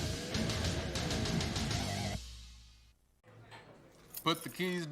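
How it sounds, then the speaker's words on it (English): Keys jangle and clink loudly for about two seconds in a small room, then stop; after a short quiet gap, a voice speaks nearby. "Put the keys down, Kevin."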